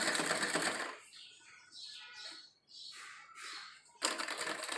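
A sewing machine stitches the hem of a salwar leg, in two short loud bursts at the start and end with lighter, chirpy mechanical sounds between them.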